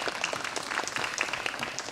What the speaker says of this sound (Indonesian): Tepuk tangan buat orang tua dan guru-guru hebat kita ya